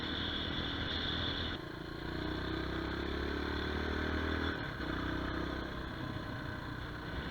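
Motorcycle riding at around 60 miles per hour, a steady mid-pitched engine drone mixed with rushing wind and faint rattles, continuous and fairly loud throughout with no talking.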